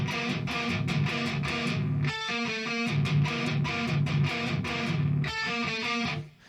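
Distorted electric guitar plays a chugging palm-muted riff on a six-string, broken twice by a quick ringing melodic lick, loud and steady with no voices.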